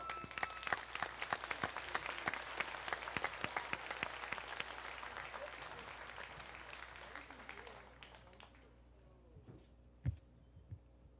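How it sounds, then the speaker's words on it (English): High school graduation crowd applauding, a broad patter of many hands clapping that gradually thins and fades, leaving a few scattered claps and faint room noise near the end. "Cue the applause."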